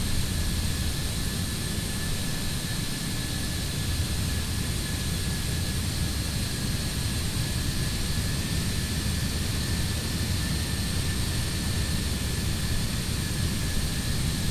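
Simulated Antonov An-225 six-engine cargo jet flying past in Microsoft Flight Simulator 2020, a steady, loud, unbroken engine roar with a high whine running evenly throughout.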